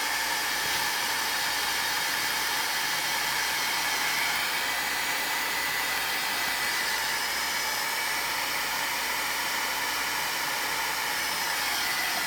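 A heat tool blows steadily to dry oxidized craft paper, a loud continuous whooshing hiss of hot air running unbroken throughout, with no talking.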